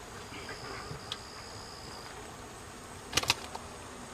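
Faint buzzing of honeybees in an opened hive hums quietly, with a brief cluster of sharper buzzes and clicks near the end.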